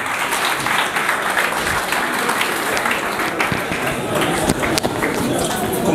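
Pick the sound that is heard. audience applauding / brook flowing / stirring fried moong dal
audience applauding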